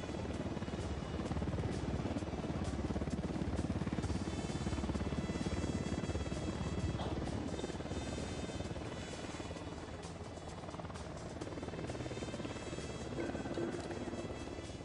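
A helicopter in the MOJO video game, a loud continuous rotor thrum and buzzing drone holding steady and close throughout, with no pause.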